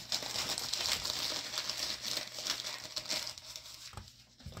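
Cardboard and plastic packaging of a Logitech G435 SE crinkles and rustles as it is unboxed, a continuous close, soft crumpling with small tearing bursts and no talking.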